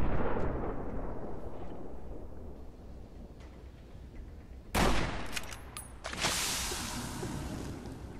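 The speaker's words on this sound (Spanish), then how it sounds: "Me está esperando para lanzarme una granada." A grenade goes off in the Fallout: New Vegas video game with a sudden loud blast, followed moments later by a second burst and a sustained rumble over steady background game noise.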